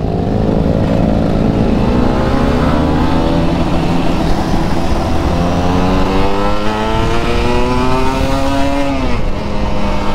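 A Kawasaki Ninja RR two-stroke sport motorcycle accelerating hard at a racing workshop, its engine note climbing steeply through repeated gear shifts, loud, close and continuous with no talk.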